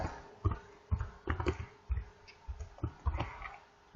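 Keys clatter on a computer keyboard as a formula is typed, about a dozen irregular clicks and taps in quick bursts, close and fairly quiet with no voices.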